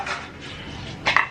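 A metal plate is pulled out during home cooking, and dishes clatter in a short, sharp burst near the end after a quiet stretch.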